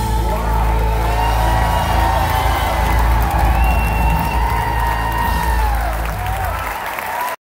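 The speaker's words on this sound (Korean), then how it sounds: "노장의 관객들까지 자연스럽게 일어나 기립박수를 치며 공연장은 박수 소리로 꽉 차게 되었습니다" A large concert audience rises in a standing ovation, with dense sustained applause and cheering, whoops and shouts over the clapping, holding loud before tapering off near the end.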